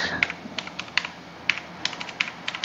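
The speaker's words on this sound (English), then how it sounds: "just type it." Rapid, uneven keystrokes on a computer keyboard while entering a command in Metasploit to exploit an FTP server, a steady run of close, crisp clicks with a few sharper taps, no voices.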